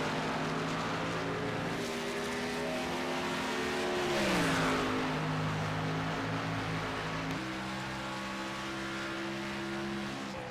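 Race cars at Watkins Glen in a racing video game roar past with layered engine tones, one dropping sharply in pitch as it brakes and downshifts through a chicane before accelerating again.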